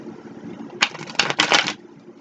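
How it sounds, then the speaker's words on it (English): A deck of playing cards gets an accordion shuffle, a quick run of close, crisp riffling clatters lasting about a second, over a faint background hum. "Gave them a good accordion shuffle right there."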